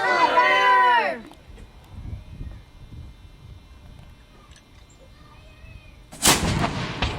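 A historic gun is fired in a living-history demonstration at Jamestowne, Virginia. A voice calls out just before a single loud, sharp blast, with outdoor quiet and faint murmurs in between.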